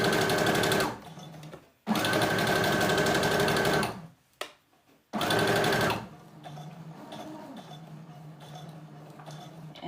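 A sewing machine stitches in three loud bursts separated by brief pauses, with short backstitching runs at the seam ends on a Burda 6442 garment, then falls to quieter handling noise at the close.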